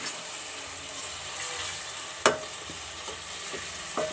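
Garlic cloves tossed into a pan of frying onions for a turnip and mutton curry, giving a steady close sizzle with a sharp clatter of the spoon midway and light stirring scrapes after.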